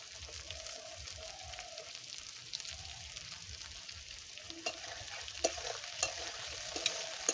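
Chilli chicken pieces frying in oil with a little sugar added, stirred in the pan, giving a soft continuous sizzle with intermittent clicks and scrapes of the spatula, fairly quiet and close, without speech.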